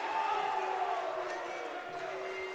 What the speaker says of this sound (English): Crowd here loves it.